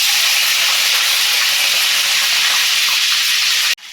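Curry leaves dropped into hot oil with mustard seeds produce a loud, continuous, close sizzle and hiss that holds steady and then cuts off abruptly at the end.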